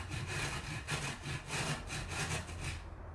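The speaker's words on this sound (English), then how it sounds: "you're going to hold it at an angle like this and try and get and use it on the grater like this" Zucchini pushed along a grater at an angle into long strips, a quick run of rhythmic rasping strokes, close and fairly even, ending abruptly.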